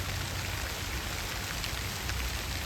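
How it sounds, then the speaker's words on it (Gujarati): Rain falling in a village near Botad, a dense, even wash of hiss with no breaks, quiet and steady, with no voices. "કેવો મસ્ત વરસાદ પડે આખો"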